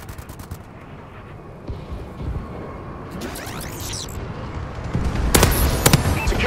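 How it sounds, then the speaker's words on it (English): Bombing run in the online shooter Call of Duty: Advanced Warfare on the Recovery map: rumbling gunfire and loud booming blasts that swell toward the end. "Friendly bombing run incoming."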